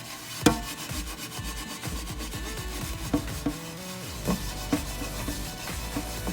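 A reusable scrubber is worked back and forth over a dirty surface, giving uneven rasping rub strokes close up with a few sharper knocks and scrapes and no voices.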